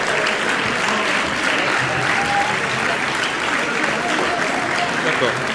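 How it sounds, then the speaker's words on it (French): Loud, continuous audience applause at a local town event honouring champion rowers, a dense even clatter of many hands close by with some voices mixed in. "Vous pouvez les applaudir."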